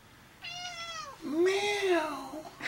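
A human voice imitating a cat, two drawn-out meows with rising then falling pitch, close and clear as a clown-themed bit of silliness.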